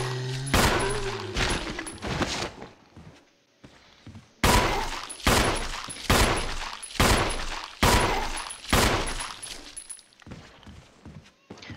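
Repeated gunfire aimed at zombies in the Resident Evil video game, loud bursts of shots fired in quick clusters with short pauses between volleys.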